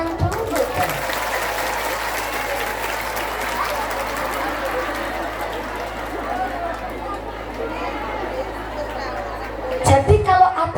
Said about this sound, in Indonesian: Tepuk tangan dulu kan.